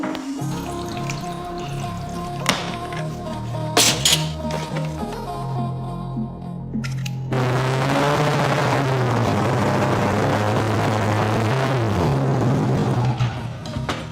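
A Kawasaki ZX-10R motorcycle engine, mid-rebuild, holds a steady idle-to-mid rev near 4,000 rpm with a constant low hum that swells into a louder, rougher roar partway through, with no talk.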